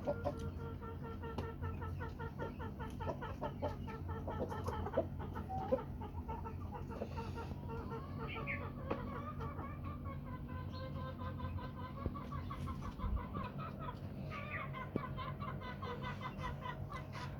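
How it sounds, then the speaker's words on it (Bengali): A tiger-breed rooster and four hens cluck and murmur on a rooftop farm while they feed, giving a continuous, moderately close stream of soft clucks with a few sharper calls and almost no talking. "এটা টাইগার মোরগ আর এগুলো মুরগি। এখানে আছে 4টা মুরগি, একটা মোরগ।"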